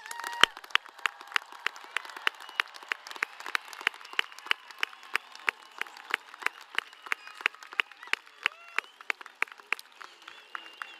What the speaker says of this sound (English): Let's give the class of 2026 a big round of applause.